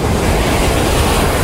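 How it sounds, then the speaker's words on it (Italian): Calm sea waves wash steadily with a broad, even surf roar, continuous and fairly loud, with no voices over it. "La voce calma del mare."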